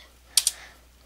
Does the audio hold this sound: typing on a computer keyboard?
yes